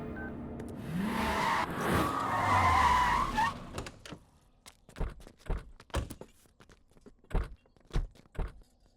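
Car skidding to a stop on the road, a long tire scrub with a low engine under it for about four seconds, then a string of sharp thuds and knocks like doors and footsteps.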